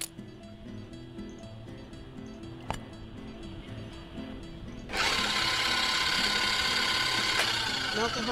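Stand mixer with a dough hook in the video game Cooking Simulator, a low mechanical whir that jumps to a louder, denser grinding drone partway through, heard alone without talk.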